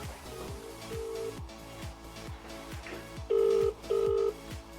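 A telephone keypad dials a rapid run of beeping tones over a rhythmic pulsing background, followed by two long ringback tones, heard over a phone line during a live giveaway draw.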